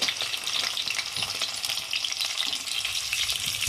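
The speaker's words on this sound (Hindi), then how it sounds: "इसको भी अच्छे से सॉटे कर लेना है।" Onion with ginger-garlic paste sautéing over a high flame in a pan: a steady, dense frying sizzle runs continuously at close range, with faint stirring scrapes underneath and no talking.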